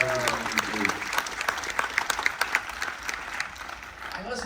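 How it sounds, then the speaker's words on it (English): Indoor audience applause for police officers at a military tribute event aboard the Carnival Dream cruise ship, a steady dense clapping through the room with a voice speaking briefly at the start and end. "So please give a round of applause for my police in the room."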